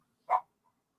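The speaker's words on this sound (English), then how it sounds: "Dog's decided to bark." A dog lets out one short bark, fairly quiet and isolated against a silent background, followed by a faint brief trace.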